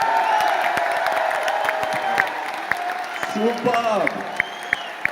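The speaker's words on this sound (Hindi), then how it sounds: "तालियां" Audience applause at a large public speech event in Delhi: scattered claps and crowd noise rise and fall while a voice keeps talking over them.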